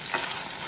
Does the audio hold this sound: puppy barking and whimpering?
no